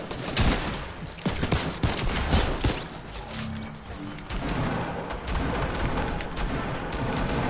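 Rapid bursts of gunfire from the video game Fortnite, played on PS4, crackle loudly and almost without pause through the clip, with heavy booms mixed in.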